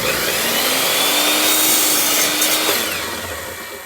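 A miter saw set to 45 degrees cuts through a board for a birdhouse box, a loud sustained whine with a steady motor tone that holds for nearly three seconds before winding down as the cut finishes.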